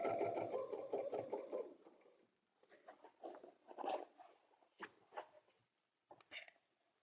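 A sewing machine stitches a quilted table runner in short bursts: a strong opening run, then several brief stop-start runs separated by quiet gaps, close and fairly quiet.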